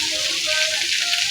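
Food sautéing in a pan sizzles with a bright, steady hiss, close and continuous over a brief moment.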